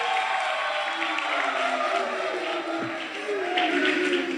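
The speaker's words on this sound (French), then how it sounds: "je pense qu'on peut l'applaudir encore une fois." An audience at an outdoor evening radio show claps and cheers for a guest, a dense, steady wash of applause that holds throughout with little change in level.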